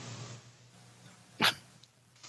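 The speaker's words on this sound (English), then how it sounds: "Oh, I gotta sneeze." A single short, sharp sneeze bursts out in a quiet room, brief and fairly close against faint background hiss.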